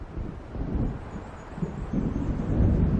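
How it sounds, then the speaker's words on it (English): An approaching thunderstorm in Alan Wake Remastered brings a low continuous rumble of thunder and wind that swells steadily louder. "It seems there's a storm coming."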